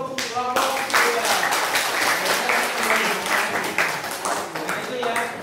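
Applause for a student group in a classroom session, a burst of clapping from a small group that fades quickly as a voice carries on over the tail.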